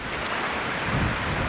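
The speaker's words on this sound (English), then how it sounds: "we're at Larrabee State Park here on a very windy spring day." Strong wind roars across a shoreline beach at Larrabee State Park on a windy spring day, a brief, dense gust of rushing air and buffeting against the microphone with no speech.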